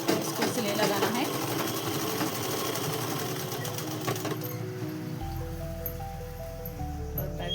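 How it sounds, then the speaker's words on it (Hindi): A sewing machine stitches a simple dress with a busy, rustling mechanical whir for several seconds that then gives way to a quieter, tonal ending. "इसको सिलाई लगाना है।"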